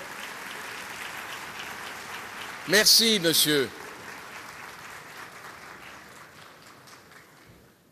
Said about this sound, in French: C'est vous qui devez l'applaudir.